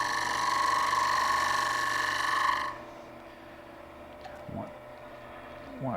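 A pull cut on a wood bowl turned on a lathe with a ceramic tile insert tool, a loud steady whirring scrape that stops abruptly partway through, leaving a low hum and a few faint knocks.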